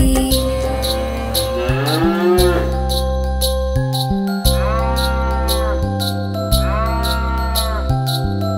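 White cow mooing in a Tamil nursery rhyme: a few long, tonal moo-like calls rise and fall over a loud, steady backing of music, with no speech.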